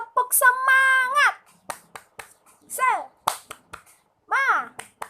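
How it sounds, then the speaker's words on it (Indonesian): A Sunday school clap chant, a sung call in a bright voice punctuated by sharp handclaps in short bursts, with pauses between phrases. "Tepuk semangat."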